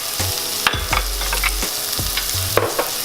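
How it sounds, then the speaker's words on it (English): Chopped onion fries in melted butter in a pan for wonton filling, a steady close sizzle broken by occasional scraping stirs and light knocks of a utensil, with no talking. "I am gonna add 1 chopped onion. And I'm going to basically just fry that up until the onion's translucent."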